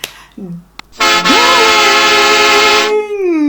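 A train horn sound effect blares in one loud, sustained blast of about two seconds, a rich steady chord that cuts off abruptly, with a softer gliding tone trailing after it.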